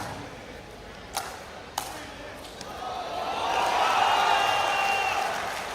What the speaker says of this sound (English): you're hearing the reaction from the crowd